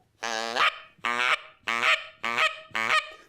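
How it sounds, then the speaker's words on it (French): Five loud, harsh snow goose honks in a steady rhythm, each a rich nasal call of about half a second, close and alone with no voices. "Entre autres, l'Oie des neiges."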